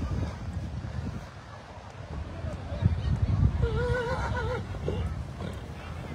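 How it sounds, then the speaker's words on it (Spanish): An adult stallion entering a Criollo show arena in Argentina gives a clear neigh partway through, the whinny ringing over wind noise and an announcer's voice. "Ingresa también el caballo"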